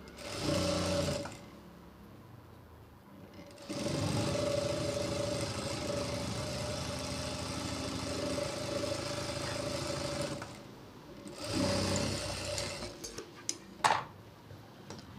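An electric sewing machine stitches a blouse back neck in several long continuous runs with a steady whirring hum, separated by short pauses and a few light clicks toward the end.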